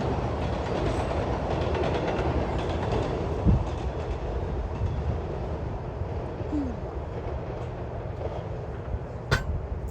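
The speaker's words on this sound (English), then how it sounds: "Train exiting." A train rolls past during a spring walk through a Maryland neighborhood, a sustained low rumble with rail clatter at moderate distance and a sharp click near the end.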